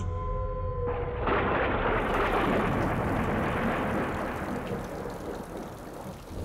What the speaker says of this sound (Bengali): এই রে যা, আবার বৃষ্টি শুরু হলো দেখছি।